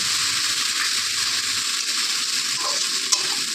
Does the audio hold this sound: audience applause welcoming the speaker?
no